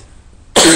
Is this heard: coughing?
yes